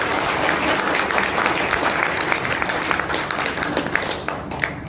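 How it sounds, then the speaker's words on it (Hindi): Seminar audience applauding together, dense steady clapping that fills the whole stretch at close range with no break. "एक बार फिर से ताली बजा ली तो मैं आगे शुरू करूँ।"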